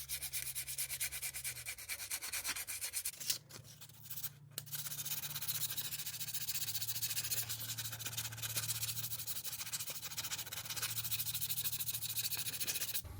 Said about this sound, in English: we can just get a little bit of sandpaper here and just take a little bit of the glazing off